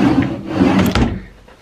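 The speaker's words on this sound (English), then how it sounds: "Drawers," A drawer in a hotel room slides open and shut, giving a short wooden scrape that ends in a firm knock. The sound is close and loud and heard on its own.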